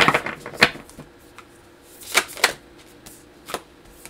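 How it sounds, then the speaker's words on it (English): Stiff playing cards being shuffled by hand in uneven bursts: sharp riffling clicks near the start, a quieter gap, then further crisp flurries, close and alone with no voices. "I'm going to have to shuffle them like this because they're so stiff."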